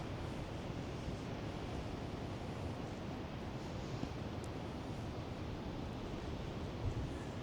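Sea surf rolling onto the beach at Bridlington, a steady broad wash of breaking waves heard from a distance, with some wind rumble on the microphone and no voices.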